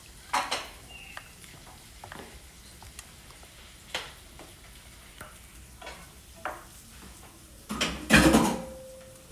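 Leek frying in a pan gives a faint sizzle beneath scattered clinks and scrapes of utensils stirring in cookware, ending with a louder clattering burst near the end.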